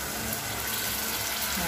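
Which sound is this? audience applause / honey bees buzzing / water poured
water poured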